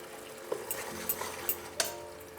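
A paste of ground cashew, poppy seed and fennel sizzles softly in hot oil in a pan, with a few sharp scrapes and taps of a spoon stirring it.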